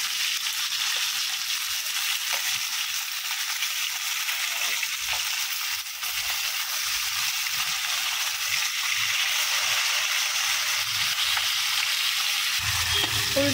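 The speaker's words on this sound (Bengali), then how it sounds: "এবার এই পিঠগুলোকে আমরা ভালোভাবে ভেজে নেব" Shol (snakehead) fish pieces fry in hot oil, giving a steady, loud, dense sizzle that runs throughout without pause, with occasional soft clicks from stirring or turning and a slightly lower bubbling near the end.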